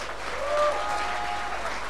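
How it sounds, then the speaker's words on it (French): A short burst of audience applause at the Stunfest 2014 gaming event, steady clapping from a crowd that holds evenly for under two seconds. "applaudissez-le au moins!"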